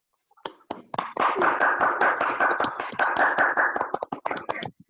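Applause welcoming a speaker onto the stage at an online webinar, a burst of close, sharp hand claps starting sparse, then thickening into steady clapping for several seconds before breaking back into scattered claps.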